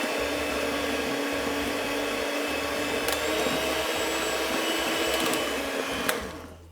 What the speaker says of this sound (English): So I'm using just normal hand mixer, and now with single whisk.